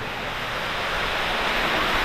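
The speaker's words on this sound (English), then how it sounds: "it's gushing water like a madman" Water gushes down a rocky drop outdoors, a loud, unbroken roar of rushing flow that swells slightly toward the end, with no voices.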